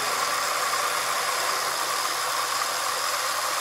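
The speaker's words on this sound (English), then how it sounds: "Look at that motor. Look how smooth that is right now." A 1996 Ford Mustang engine, one with a white-smoke problem, idles in a steady, even hum with a hissy, constant drone and no rev changes.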